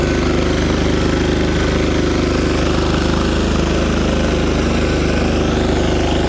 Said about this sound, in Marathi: पॉवर टिलर सारखाचा अपोलो कंपनीचा हा ट्रॅक्टर 1502 TI या ठिकाणी डेमो दाखवत आहे